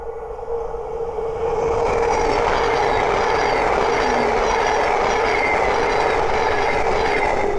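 A Thameslink Class 700 electric train passes on the East Coast Main Line at Great Wymondley, a loud, sustained rushing roar of wheels and motors that swells in the first two seconds and holds steady, with a faint squealing tone.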